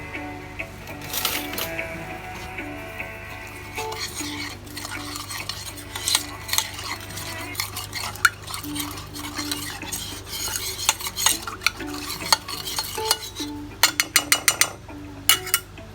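A utensil stirs meat mixed with cinnamon, ras el hanout and nutmeg for a Moroccan prune dish, giving close scraping and clinking strokes in an irregular rhythm. A quick cluster of sharper knocks comes near the end, with no talk.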